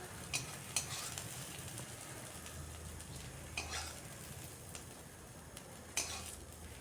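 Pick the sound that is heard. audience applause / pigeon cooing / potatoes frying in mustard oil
potatoes frying in mustard oil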